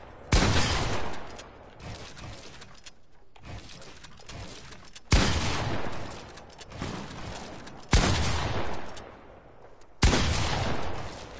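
Video game gunfire: four loud, separate bursts of shots, each a sharp crack that rings out and fades over a couple of seconds, with no talking.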